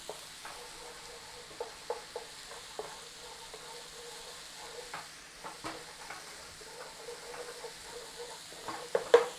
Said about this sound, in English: cook out the rawness of the garlic in the pan